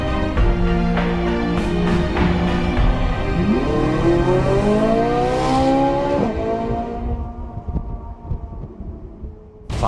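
A Ferrari 458 Italia V8 revs hard, its pitch climbing through rising and falling sweeps, loud and close, then the engine note fades away near the end.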